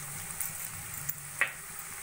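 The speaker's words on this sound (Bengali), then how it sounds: "পেঁয়াজ হালকা সোনালি করে ভাজা হয়ে গেছে।" Onions fry in a pan with salt and turmeric, giving a soft, steady sizzle with a couple of faint stirring scrapes, quiet and close.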